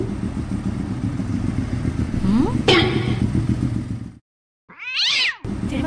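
In an animated film scene, a broken-down motorcycle that won't start is pushed along, a steady low engine-like rumble with a cat-like squeal and clatter, then a brief silence and a sweeping whine.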